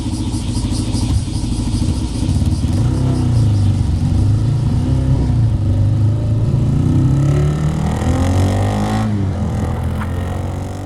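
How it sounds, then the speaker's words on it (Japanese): A 250cc single-cylinder motorcycle engine revs up and down close by, its throaty exhaust pulsing loudly and steadily with no voices. "250cc の単気筒のバイクで試してみたんですが"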